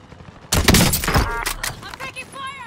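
Loud bursts of automatic gunfire in Warzone, a dense rapid volley that tapers into scattered shots, with a voice speaking over the tail end.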